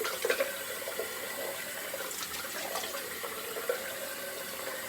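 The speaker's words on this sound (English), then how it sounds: "All right, cold water rinse." A tap runs steadily into a sink for a cold water rinse after a straight razor shave, a soft continuous rush with small splashes and no talk.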